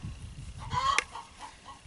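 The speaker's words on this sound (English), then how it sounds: "I do apologize about the annoying chickens in the background" Chickens in the background outdoors during a bow drill fire-making attempt in damp conditions, one faint honking cluck rising briefly over low rustling, distant and quiet.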